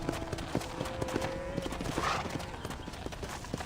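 Horse hooves clip-clop steadily at a walking pace in Red Dead Redemption 2, a close, even series of knocks that runs the whole time, with a faint sustained tone in the background.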